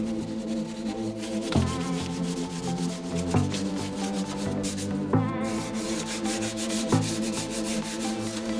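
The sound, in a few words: wet sanding primer on a Honda Integra DC2 body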